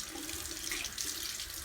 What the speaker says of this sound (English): Wets hands and wrists thoroughly.